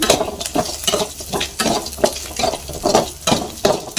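Cumin seeds and black peppercorns sautéing in a pan while being stirred, a steady close sizzle with rhythmic scraping strokes roughly every half second, no voices.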